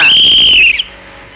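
A loud, shrill whistle blown once in a single sustained blast to signal a bus to move off, cutting off sharply, followed by quiet.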